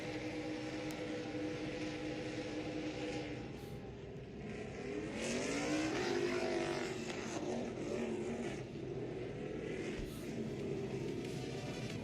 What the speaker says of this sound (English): We're going to let these cars come to a stop